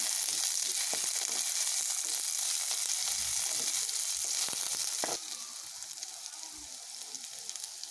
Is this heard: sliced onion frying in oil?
yes